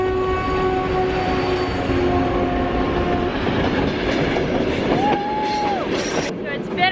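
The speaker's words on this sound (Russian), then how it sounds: "Прошло полчаса, нас догоняет поезд." A train on the Circum-Baikal Railway rolls past at close range with a heavy rumble and clatter of wagons, its horn blasting tonal notes over the noise.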